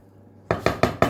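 Caramelized apples stirred into cake batter in a bowl: four evenly spaced, fairly loud scraping strokes of a utensil against the bowl after a quiet start, with no talking.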